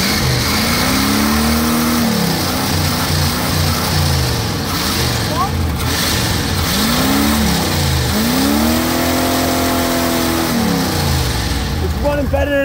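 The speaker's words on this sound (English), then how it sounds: "All right, rev it up, sir." A 1987 Cadillac 5.0 V8 revs repeatedly, each rise and fall of engine pitch loud and close over a steady running drone, with people talking over it.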